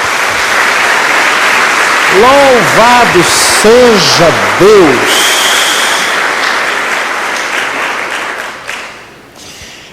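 Congregation applauds for Jesus during a Portuguese-language church service, a loud, sustained clapping wash with a voice speaking and singing over it before the sound fades out near the end.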